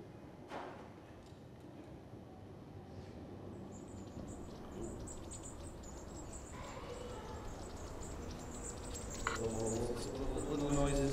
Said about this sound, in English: Little noises. Very busy bird, a long tail, flitting around.